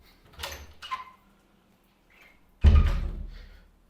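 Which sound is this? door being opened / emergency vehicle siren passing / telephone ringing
door being opened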